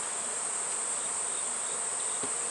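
Honey bees drone around stacked hive boxes, a constant insect hum with a thin, high, steady whine over it.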